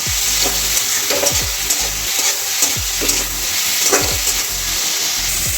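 Tomatoes stir-fried on a high flame for chilli cauliflower give a loud, close sizzle with repeated scraping strokes of a spatula in a steady rhythm.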